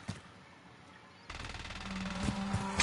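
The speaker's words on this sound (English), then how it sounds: "I think you'll be able to hear the gunshots." Video game gunfire crackles as a rapid burst of automatic shots, fairly faint and distant, coming in after a quiet start.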